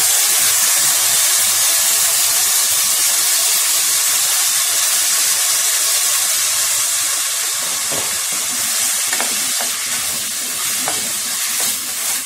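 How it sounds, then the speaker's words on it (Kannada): Rice frying in ghee in a tava pan for capsicum pulao, a steady loud sizzling hiss throughout with faint crackles and occasional stirring scrapes. "ಅಕ್ಕಿ ಹಾಕಿ 1-2 ನಿಮಿಷ ಫ್ರೈ ಮಾಡಿ"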